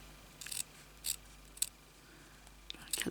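Scissors make a series of quick, crisp snips, spaced irregularly and fairly close, while cutting material for a miniature tiny house craft built on a button; no one speaks.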